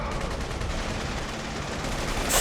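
Sustained machine gun fire in The Saboteur, a dense, unbroken clatter of rapid shots that fills the whole stretch at steady loudness with no pauses, swelling slightly at the very end.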